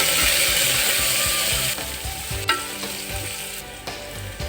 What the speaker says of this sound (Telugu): ఒక కప్పు సన్నగా తగ్గు పెట్టుకున్న క్యారెట్ ముక్కలు ఇవి కూడా వేసి ఇంత దూరంగా వేయించుకోవాలి